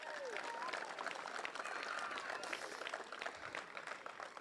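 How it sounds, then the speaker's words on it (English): Sustained crowd applause and clapping at the 2021 Roscommon senior hurling final between Athleague and Tremane, a dense continuous wash of hands from a large gathering with voices mixed in. "so a big round of applause to them."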